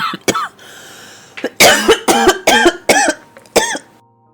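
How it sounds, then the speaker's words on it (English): A tired mother coughs hard in a close, dry series of bursts, first a single cough, then a rapid cluster of five or six harsh coughs, with pauses of near silence between them. "Sorry guys, I almost died of cough. I take a cough break."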